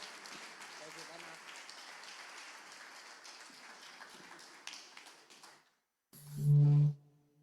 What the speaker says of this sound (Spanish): Lo recibimos con un aplauso de amor